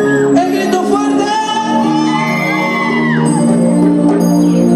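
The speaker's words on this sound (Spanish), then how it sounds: "¡El grito fuerte!" A live concert crowd shouts and cheers loudly, a continuous wall of whoops and yells blended with ringing music from the stage.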